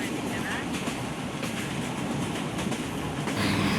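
Rocket Express mail train running between Khulna and Jessore, a steady close rumble with faint rail clatter continuing throughout and growing slightly louder near the end.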